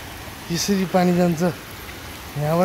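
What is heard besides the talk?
water flowing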